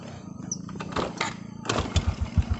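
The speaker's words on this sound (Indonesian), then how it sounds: "yuk kita engkol sepeda motornya dulu" A motorcycle is kick-started in a hillside garden at the foot of Mount Seulawah, Aceh, with scuffing strokes giving way to a low, throbbing engine rumble that pulses several times near the end.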